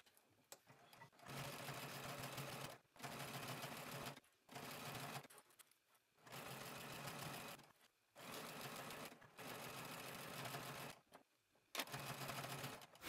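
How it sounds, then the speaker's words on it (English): A sewing machine top stitches the neckline of a sewn top, running in about seven steady bursts of rapid mechanical whirring separated by short pauses, close and loud with no talking. "then I'm going to top stitch my neckline"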